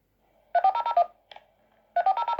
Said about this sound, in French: on voit que la première tonalité, on l'entend super bien